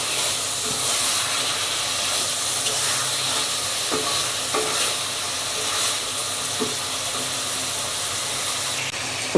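Curry sautés in a pan before tomato is added, giving a continuous close sizzle and hiss with occasional scraping stirs, with no talking.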